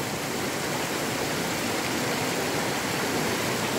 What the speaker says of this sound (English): Just checking the water flow.